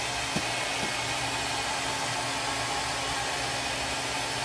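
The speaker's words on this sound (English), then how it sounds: "To blow it up, we'll use a hair dryer." A hair dryer blows steadily and loudly throughout, inflating a small hot air balloon, a constant broadband whoosh with a faint hum, no voices.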